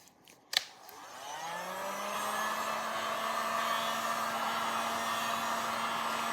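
Hot air from a heat tool blows steadily across a painted, taped craft surface, starting after a sharp click and rising into a constant whirring hiss with a clear motor hum that continues to the end.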